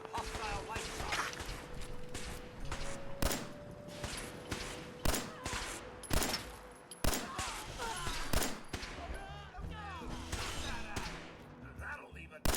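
Laser pistol shots in the video game Fallout 4, sharp repeated bursts of hostile fire at an irregular rhythm over game ambience and music.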